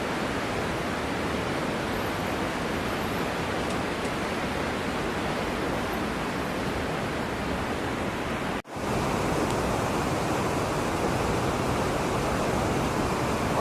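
A river in Andorra rushes in a steady, dense roar of flowing water, loud and close, alone with no voices.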